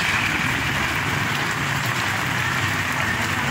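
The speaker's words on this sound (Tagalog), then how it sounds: "Ayan po, medyo lumalakas po yung ulan ngayon." Heavy rain pours steadily onto surfaces in Sorsogon City, Philippines, as a dense, loud, unbroken hiss with no pauses, during a spell of low-pressure weather, with no voices.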